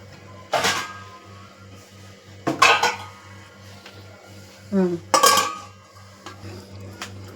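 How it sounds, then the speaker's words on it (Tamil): A metal lid set down on a pot of Chettinad quail gravy, a few close clanks and clinks of lid and cookware at separate moments over a low steady hum, with no talking. "இப்போ மூடியை போட்டு ஒரு 10 நிமிஷம் வேக வைப்போம்"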